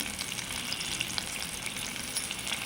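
Eggs coated in chili powder fry in a pan with a steady, dense sizzle throughout, close and fairly quiet, with a few faint scraping or stirring touches and no talking.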